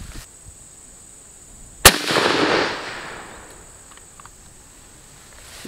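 A single loud SKS rifle shot fired into a tire cracks sharply, then a burst of debris and a hissing rush trails off over about a second, with faint outdoor ambience before and after.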